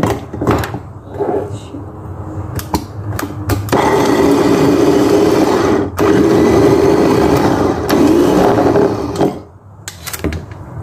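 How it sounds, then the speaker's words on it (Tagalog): A new electric blender whirs loudly and steadily for several seconds while blending garlic, stopping briefly midway, with clattering handling noises before and after. "Ito yung blender na bago."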